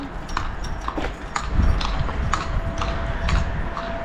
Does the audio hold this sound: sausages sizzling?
no